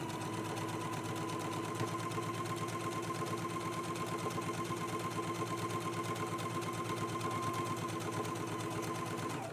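A sewing machine runs steadily while top stitching along a dress yoke, a continuous close mechanical whir with a fast, even needle rhythm and no pauses.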